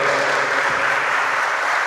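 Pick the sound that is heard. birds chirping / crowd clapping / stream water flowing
crowd clapping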